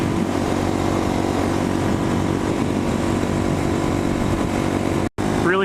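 A Kawasaki Ninja 400 motorcycle on a ride holds a loud, steady engine drone mixed with wind rush, cutting out abruptly for a moment near the end.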